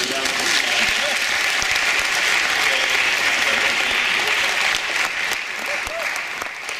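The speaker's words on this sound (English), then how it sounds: "Let's give all our debaters a round of applause." An audience at a school debate event applauding the debaters, a dense, sustained wash of clapping from a crowd that holds steady and slightly eases toward the end.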